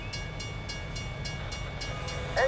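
A train passing in American Truck Simulator, a steady low rumble with rhythmic clickety-clack every half second, heard from nearby without talk.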